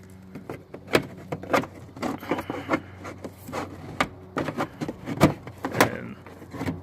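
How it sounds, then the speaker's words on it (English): Plastic fender liner pulled back by hand during a CANBUS LED fog light bulb install, giving a string of scraping, flexing and clicking knocks of varying loudness, close and alone with no talk. "just what you want to do is pull the fender liner out like this"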